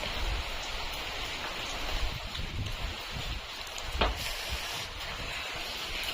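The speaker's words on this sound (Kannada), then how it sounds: "ಮಳೆ ಮಳೆ ಮಳೆ" Steady rain falling, a continuous soft hiss with faint patter on surfaces, no voices, one brief sharper drop sound midway.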